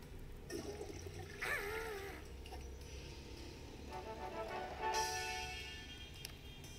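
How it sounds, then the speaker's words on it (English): In the Troll Face Quest mobile puzzle game, a cartoon toilet flushes with a watery rush and gurgle that swells and trails off over several seconds, fairly quiet and without voices. "Now flush the genie out, click the flush button here."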